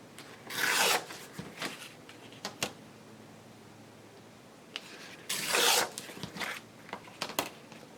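Paper torn by hand around a shape for a journal page: two longer ripping strokes with a few short tears and crinkles between them, close and fairly quiet, with nothing else heard.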